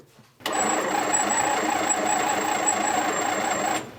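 A 1968 International truck engine cranks over on its starter, powered through jumper cables, in one continuous close whirring run of about three seconds that cuts off abruptly without catching.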